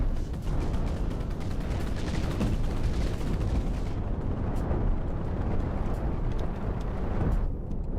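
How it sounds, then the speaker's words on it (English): Deck cannons fire in a rapid barrage and ships blow up in the space game Cosmoteer, a dense, loud roll of booming blasts and crackling explosions with no gaps, briefly thinning near the end. "So it's blowing up each one of the wings first, so it blows up each one of these deck cannons. And then now it's firing"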